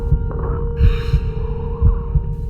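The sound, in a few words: heartbeat, from a video game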